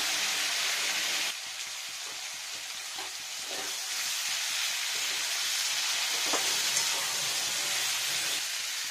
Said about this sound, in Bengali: এখন ভাজা ভাজা হবে, জলটা টানে।